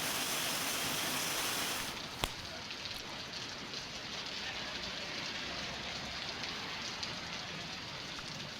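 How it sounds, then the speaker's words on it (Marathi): Heavy monsoon rain pours down in Lanja taluka, Ratnagiri, near the Mumbai–Goa highway market area. It makes a dense, unbroken roar of falling water, with a single sharp knock early on. "रत्नागिरीतील लांजा तालुक्यामध्ये सकाळपासून पडणाऱ्या मुसळधार पावसामुळे"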